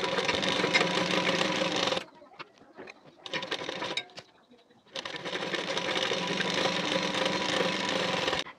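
A sewing machine stitches nylon fabric onto a boat-neck blouse in loud, steady runs, stopping for about three seconds of quieter handling sounds before running again.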